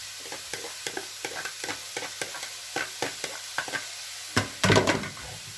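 Leeks and mushrooms sauté in a pan as a spoon stirs them, giving repeated soft scrapes and taps over a faint sizzle, ending in a louder burst of clatter.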